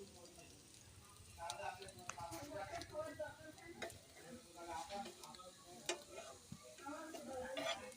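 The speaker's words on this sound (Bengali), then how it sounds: "এটা কুচি করে রেখেছিলাম সেটা ভেজে নিচ্ছি" Chopped onion frying in a pan for a shrimp-paste bhorta, a soft steady sizzle broken by scraping stirs and light utensil clicks, faint and close throughout the clip.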